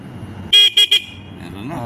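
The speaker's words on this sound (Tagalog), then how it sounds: "Okay na yan, may busina na." Three quick motorcycle horn beeps, one longer then two short, sounding over a low idling engine nearby.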